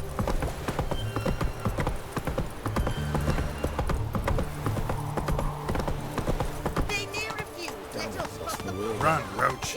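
Roach, Geralt's horse in The Witcher 3, gallops with steady, rapid hoofbeats throughout, close and prominent, under game music and spoken dialogue, with a brief neigh-like sound near the end.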